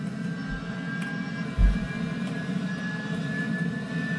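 A twin-engine airplane droning steadily in a flight simulator game, a continuous low engine hum with a faint high whine and one brief dull thump partway through.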